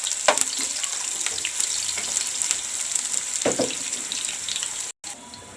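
Onions sizzle and crackle in hot ghee, a steady frying hiss with occasional louder pops and stirring clatter.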